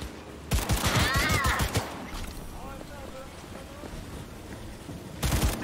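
Gunfire in the video game Cyberpunk 2077: a loud burst of rapid shots, then a quieter stretch with voices, then another sharp volley at the end.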